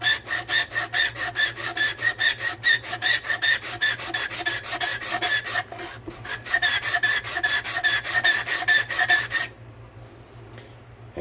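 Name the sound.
sliding humbucker ring over 220 sandpaper on guitar body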